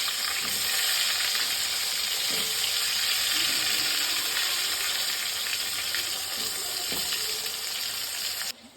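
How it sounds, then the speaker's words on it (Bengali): Potatoes fry in a pan with a loud, steady, hissing sizzle that runs unbroken from start to finish. "আলুগুলোকে ভেজে নিই"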